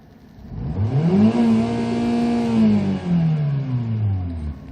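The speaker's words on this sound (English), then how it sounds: "Let's now try to accelerate. See the RPMs here, and listen to the engine sound as well." Used white Hyundai Accent sedan engine revving up from idle, rising smoothly in pitch to a sustained high rev before dropping back, loud and close inside the car.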